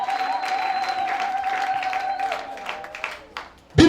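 A church congregation claps and ululates together, with a sustained high voiced trill running over continuous applause. The sound thins out toward the end before a sharp burst.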